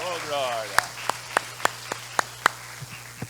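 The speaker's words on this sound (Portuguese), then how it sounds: "E vamos aplaudir essas famílias" A church congregation applauding families during a service: after a brief voice, steady, evenly spaced claps ring out in a slow rhythm over a low constant hum, then fade.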